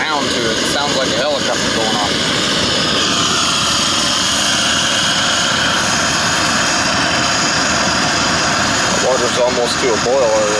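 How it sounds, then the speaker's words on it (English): An MSR Firefly camping stove burner roars steadily and loudly like a jet or helicopter throughout, with a person talking over it now and then. "This stove has a unique sound to it."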